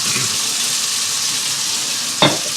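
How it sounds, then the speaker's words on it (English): Small New York steaks sear in a hot pan with a steady, loud hiss of sizzling fat, and a short knock or clank comes near the end. "And I'm going to put some steaks on."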